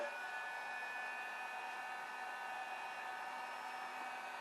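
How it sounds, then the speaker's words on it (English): Heat gun blowing steadily while stripping paint from a 1984 SVO Foxbody Mustang, a continuous airy whir with a faint high whine, even and unbroken throughout, no voices. "heat gun. Get that fired up."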